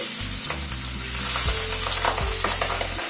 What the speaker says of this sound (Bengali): তেলটা গরম হয়ে এসেছে পাবদা মাছটা ছেড়ে দিচ্ছি